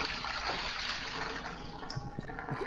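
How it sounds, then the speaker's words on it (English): Water poured down a sink, a short, fairly quiet gush and splash of liquid draining, brief and close with no talking. "I poured a bunch of water down the sink"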